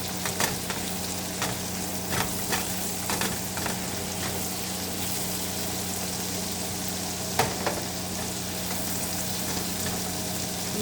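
Garlic frying in a pan while making a pork steak dinner gives a steady close sizzle, with scattered crackles and scraping taps as it is stirred, against a constant low hum.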